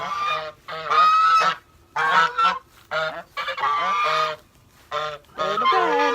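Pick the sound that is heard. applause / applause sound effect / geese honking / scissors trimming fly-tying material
geese honking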